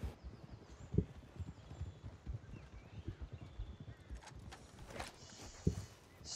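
Horse hooves clip-clopping in the Red Dead Online game, a faint, steady walking rhythm with a couple of sharper louder hoof strikes, heard alone without talk.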